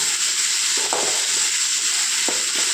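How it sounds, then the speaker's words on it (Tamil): Curry leaves and rock salt sautéing in a pan for chutney, a steady close sizzle and fry hiss with a few soft stirring scrapes, no voices. "இப்போது வதக்கி எடுத்துக்கலாம்."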